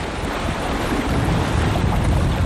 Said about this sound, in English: Just thought I'd show you a little bit about what it's like sailing on Waimea.